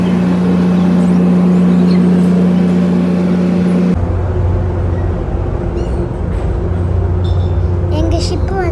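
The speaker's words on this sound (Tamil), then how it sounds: "கார்லாம் அப்படியே வெளில போயிட்டுருக்கு" Cars rolling off a ferry during unloading, a steady low vehicle and ship-engine rumble with a strong hum that shifts partway through, with people talking over it.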